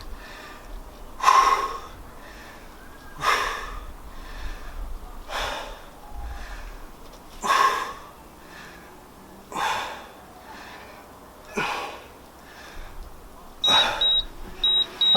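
Heavy rhythmic breaths during a workout exercise, sharp puffs of exhaled air recurring about every two seconds, close and moderately loud, with faint beeps near the end.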